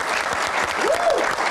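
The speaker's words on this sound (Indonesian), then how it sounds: "Tepuk tangan juga dong buat teman-teman mahasiswa yang ada di sini." A studio audience claps in a short, dense burst of applause, with a voice briefly rising over the clapping.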